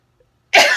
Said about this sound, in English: ain't that just like a preacher cough in the middle of a sermon?